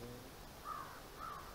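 Two crows caw in a quiet snowy forest, a pair of short distant calls spaced about half a second apart over faint steady background hiss.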